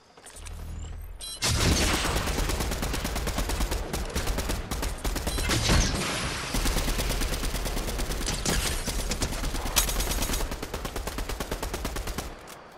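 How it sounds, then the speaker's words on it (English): Rapid bursts of automatic gunfire in a Fortnite battle crackle almost nonstop for about eleven seconds, loud and dense with overlapping shots and occasional heavier booms. "They're shooting behind us, too."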